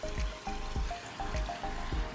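Water spills from a bowl into a 10 by 14 pondless waterfall pond, a close, steady trickle and splash with a soft rhythmic pulsing and no talking.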